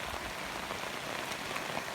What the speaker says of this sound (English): Day number 5 of the rain